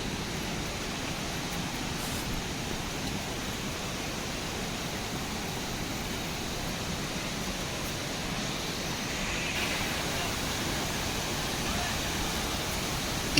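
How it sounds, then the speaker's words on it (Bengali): A waterfall along the Madhyamaheshwar trek roars nearby as a steady, dense rush of falling water that holds at an even loudness throughout. "ঝর্ণার আওয়াজটা মারাত্মক আছে।"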